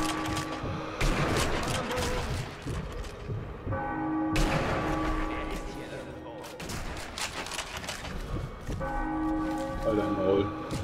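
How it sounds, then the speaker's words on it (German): Church bells peal loudly in a Sniper Elite V2 church level, repeated heavy clangs ringing out with gunfire and mechanical clatter mixed in, while players talk over the din. "Wir müssen warten, bis die Glocken läuten."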